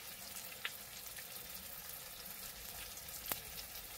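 Garam masala frying in a pan for chicken masala: a steady, faint sizzle runs throughout, with a couple of brief clicks over it.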